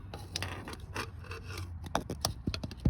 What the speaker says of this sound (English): So I'm just taking the sandpaper and just